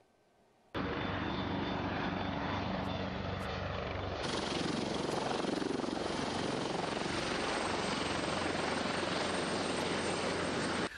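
Super Puma helicopter flying and landing in fog and rain in Nizhyn, its loud rotor and turbine roar kicking in abruptly after a brief quiet start and holding steady and close.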